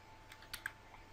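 Computer keyboard keys pressed while entering Blender hotkeys, giving a couple of quick, soft clicks close by against faint room noise with no talking.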